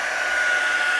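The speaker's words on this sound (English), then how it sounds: "So actually I'm going to dry it from the back just to make sure it's nice and dry." A heat tool blows steadily and close by, a continuous high airy whine with a faint tonal hum, drying the back of a handmade paper card.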